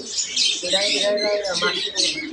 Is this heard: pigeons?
yes